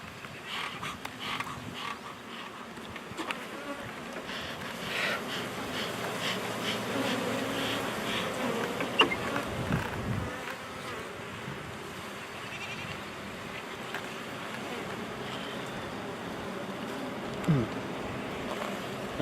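Honey bees buzz around an opened beehive during an inspection, a steady swarm drone with individual bees zipping close past the microphone.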